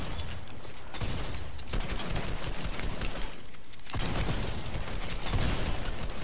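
Dense, continuous video game gunfire and battle noise, a thick wall of crackling shots and clatter with no pauses and no talk.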